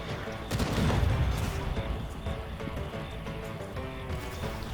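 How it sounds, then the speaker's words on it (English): Sniper rifle shots crack out in a survival video game, a loud burst of gunfire followed by scattered booms and a busy rumbling backdrop, with a voice talking over it. "The occasional sniper round from Ken or Edmund."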